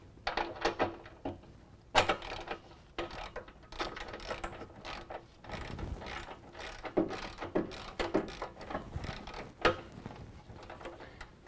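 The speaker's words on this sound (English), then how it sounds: "we can go back through and tighten up the top bolts." Ratchet clicking as the top bolts of N-Fab black hooped wheel-to-wheel nerf bars are tightened on a 2017 Chevy Duramax, with bursts of quick close ratcheting strokes separated by short gaps.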